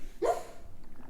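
A dog gives a single short, near bark, quick and mid-pitched, over a quiet room background.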